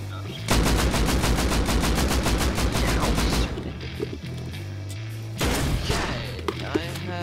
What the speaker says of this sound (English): I'm being shot at now